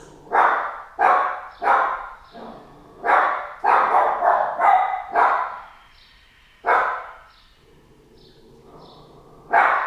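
A puppy barking during a vinyasa yoga session, about a dozen loud, close yaps in a quick uneven series, pausing briefly and resuming once at the end.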